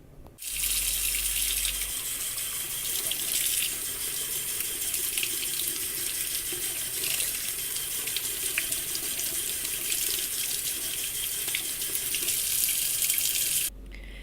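Water runs steadily from a tap over blanket yarn, a continuous close splashing stream for about thirteen seconds that starts and stops abruptly.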